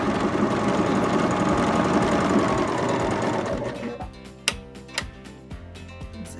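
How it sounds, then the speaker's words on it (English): A Baby Lock Vibrant sewing machine runs a rapid, steady stitching whir while sewing a rolled-edge pintuck, then slows and stops, followed by a few sharp mechanical clicks and clacks close by. "we're going to sew our last Pintuck"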